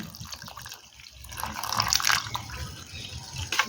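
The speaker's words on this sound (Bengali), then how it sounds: "আর দেব পরিমাণ মতো জল" Water is poured into a mango panna drink mixture, giving a splashing, gurgling flow that starts soft and swells louder in the middle before easing off.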